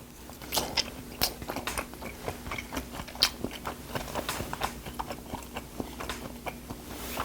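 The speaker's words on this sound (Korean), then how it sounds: "식감이 아삭아삭하면서 씹으면 씹을수록 녹아서 약간 없어진다" Close-up chewing of raw 24-hour-aged yellowtail sashimi dipped in chojang sauce, with wet, crunchy bites repeating in an irregular rhythm and no talking.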